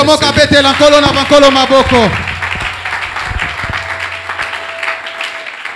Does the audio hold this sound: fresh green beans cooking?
no